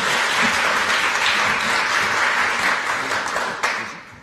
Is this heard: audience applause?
yes